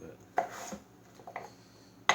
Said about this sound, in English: So just chopping things up smaller so you can get more juice